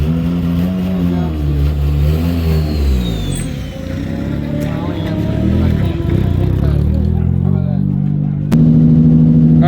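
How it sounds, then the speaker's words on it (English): A drift car's engine free-revs on track after its fuel injectors were cleaned, with a misfire suspected, rising and falling loudly and close in repeated revs throughout. "The free revving, it sounds like it works."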